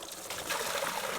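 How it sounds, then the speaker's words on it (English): Maple sap is poured into a bucket with a close, continuous trickling splash that stays fairly steady through the pour, with no talking. "So I'm supposed to take this and dump it in the bucket now?"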